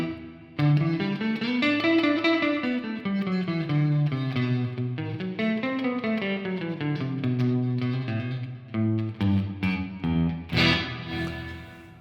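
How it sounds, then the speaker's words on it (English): Electric guitar phrases drenched in reverb with no pre-delay that swells immediately with each note, the tail washing over the playing; no voices. "If you have no pre-delay, then the reverb is going to start interrupting whatever's happening"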